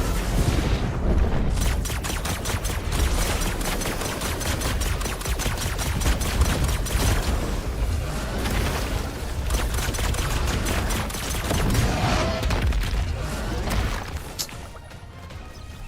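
Gunfire in the LEGO Fortnite video game, rapid bursts of shots fired in quick succession over a noisy, busy game soundscape, loud and near, with a brief lull near the end.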